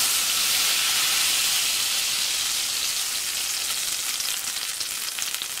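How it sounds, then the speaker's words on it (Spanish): Steady loud sizzling hiss from beans frying in a clay pot, continuous and close throughout with no pauses. "oigan, chilla la cazuela"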